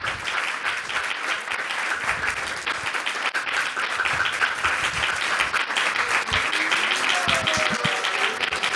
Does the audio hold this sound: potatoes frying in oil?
no